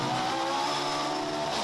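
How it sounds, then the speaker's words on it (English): An Alfa Romeo race car screams past at full throttle at Cadwell Park, a loud continuous engine howl with a dense, high-pitched note filling the whole moment. "The engine note, the sound absolutely superb in that car"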